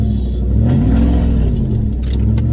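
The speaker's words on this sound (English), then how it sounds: "the first drive after it's fixed, and I haven't been able to go wide open throttle in about 5 months." A four-door Ram truck, just repaired, accelerates at wide open throttle with a loud, deep, continuous engine rumble and roar that rises and falls slightly, heard up close with no talking.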